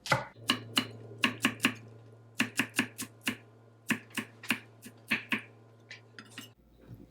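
A knife chops green onion on a cutting board, about twenty sharp, evenly paced taps in a steady rhythm, close and clear over a low background hum, with no talking.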